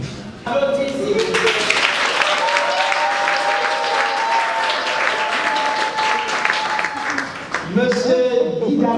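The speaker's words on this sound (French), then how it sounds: "Applaudissez" Wedding guests applauding during a civil marriage ceremony, a full burst of clapping that starts abruptly and holds steady, with a tone or voice running beneath it and talking resuming near the end.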